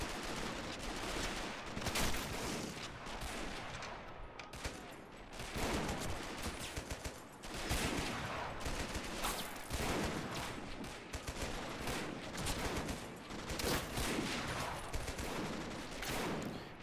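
Machine gun volleys, likely an MG39, in the Men of War game's Dunkirk outskirts defense battle: dense, continuous gunfire with overlapping bursts and impacts throughout, loud and busy with no pauses.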